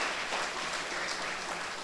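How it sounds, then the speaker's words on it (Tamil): Applause from the audience at a Tamil literary program in Chennai, a soft, distant patter of many hands clapping steadily throughout. "கலைமாமணி முரளி அவர்களுக்கும் இந்த நேரத்தில் உங்கள் கைத்தட்டலோடு அவருக்கு நன்றியை சொல்லி இந்த நிகழ்ச்சியை ஆரம்பிக்கும்."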